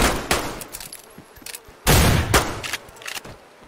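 Gunfire trades back and forth in a zombie-shooter game, a few sharp shots scattered across the moment with one heavy burst in the middle, loud and close, no voices over it.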